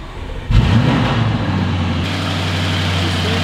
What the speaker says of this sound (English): This is how loud it is every time I start this car.